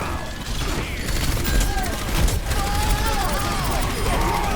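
Gunfire in the video game Overwatch during a fight against Junkrat: dense, continuous bursts of shots and impact effects, loud and steady throughout, mixed under someone talking.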